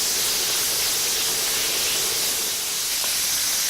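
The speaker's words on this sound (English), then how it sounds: "So the shrimps here are nicely sauteed." Shrimp sauté in a hot pan for fried rice, giving off a steady, loud, close sizzle, a continuous bright hiss with no pauses and no talking.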